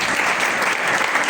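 Loud, dense applause from an audience at a church gathering, a continuous wash of many hands clapping throughout without voices.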